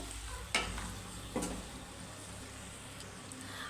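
Chicken fry masala with ginger garlic paste being stirred in a pan, a faint low sizzle with two soft scraping strokes of the spoon, quiet and close with no talking.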